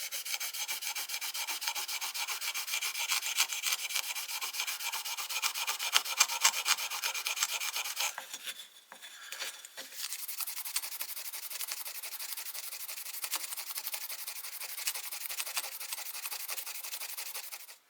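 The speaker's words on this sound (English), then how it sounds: "I want to go over the head with a ultra fine abrasive" The head of a vintage Boker short chain needle nose pliers is rubbed back and forth with an ultra fine abrasive pad, giving a steady close scratchy hiss that pauses briefly midway before resuming.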